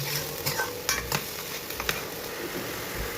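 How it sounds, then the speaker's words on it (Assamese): An onion, ginger and tomato paste fries in butter with bay leaves for shahi paneer while a utensil stirs it. Soft sizzling runs under a series of quick scraping strokes and light clinks, all fairly quiet and close. "এইখিনি অকণমান লৰাই লৰাই ভাজি,"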